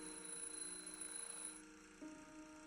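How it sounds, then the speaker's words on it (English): An alarm clock rings in a video game, a steady electronic tone that runs for about two and a half seconds and shifts pitch partway through, fairly faint and with no speech. "The alarm went off."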